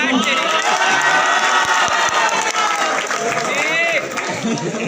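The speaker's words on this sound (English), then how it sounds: "so come on, give yourself an applause" A school farewell audience applauds and cheers loudly and continuously, with whoops and children's shouts rising over a dense, steady crowd roar that never drops away.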